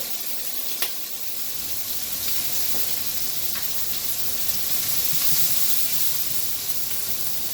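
Shrimp searing in a hot frying pan, a steady loud sizzle with bursts of hiss and steam and a few sharp pops and spatters, with no talking over it.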